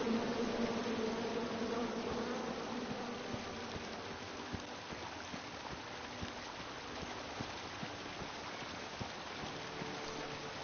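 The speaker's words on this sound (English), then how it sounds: "Come at me, bees!" Dense, continuous buzzing of bees, a steady hum that fades slightly after the first seconds and continues alone.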